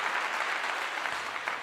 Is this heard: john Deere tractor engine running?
no